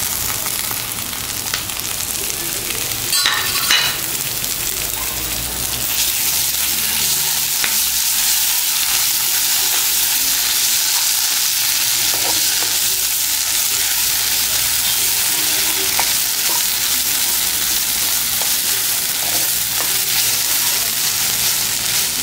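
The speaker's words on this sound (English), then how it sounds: "Now put this ground masala and fry it till it starts leaving the sides." Ground masala frying in a pan for Goan mackerel fish curry, a strong, steady sizzle that runs throughout, with occasional scrapes and a brief clatter near the start.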